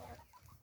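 Soft clucking from chickens, a few short low calls in quick succession, fairly close, with no talking.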